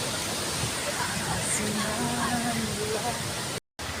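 The Mankadia waterfall rushes in a steady, broad roar while someone speaks over it, with a brief dropout near the end.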